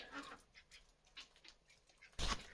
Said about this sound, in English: Okay, well, the ducks are not impressed.